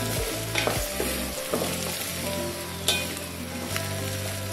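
Onions sizzling in a pan for chicken pulao, a steady close fry broken by several spoon scrapes and stirring knocks, with a couple of sharper clinks, no voices.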